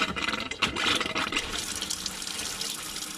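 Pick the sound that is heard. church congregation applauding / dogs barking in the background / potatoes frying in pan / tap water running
tap water running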